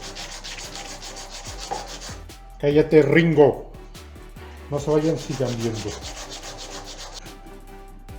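A carved wooden dove for a cross is hand-sanded in two bursts of quick rasping strokes, each lasting about a second. Someone talks before and between the bursts.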